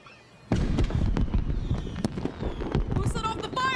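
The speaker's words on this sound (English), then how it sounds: "Who set off the fireworks?" Fireworks burst in the Honor of Kings video game, with a sudden loud blast followed by a dense crackling barrage, sharp pops, and a few rising whistles near the end.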